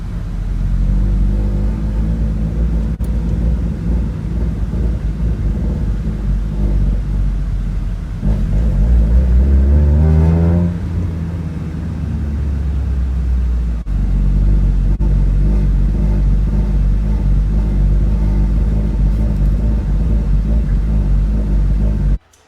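A 1999 Mazda Miata MX-5 with a fault that keeps it from revving past 3000 rpm runs with a loud, steady engine drone, and around the middle one rev rises and falls back before the engine settles into its constant rumble.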